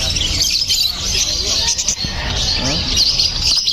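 Pet birds at a bird market call continuously amid a busy, noisy crowd, with bright chirps and tweets layered over background chatter and voices.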